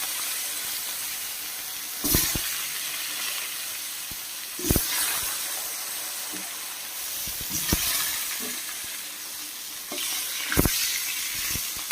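Brinjal and green chilli fry in oil tempered with nigella seeds in a pan, a steady close sizzle with occasional louder stirring scrapes every few seconds, no voices.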